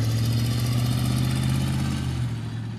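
A 1968 Chevy Camaro engine idles steadily with a slight exhaust leak, a close, even rumble that holds for about two seconds before easing slightly.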